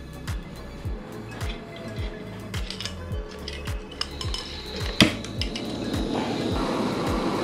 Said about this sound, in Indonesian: Dan ini potnya saya buka,